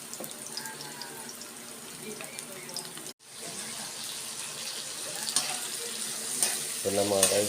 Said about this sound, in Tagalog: Ito, ginigisa ko na yung bawang.